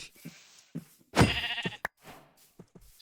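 Sheep bleating in Minecraft: a clear, close bleat in the middle of the clip among a few short soft thuds and footstep-like knocks.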